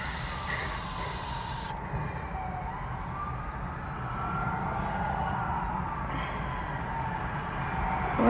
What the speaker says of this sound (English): It's more common here, sirens.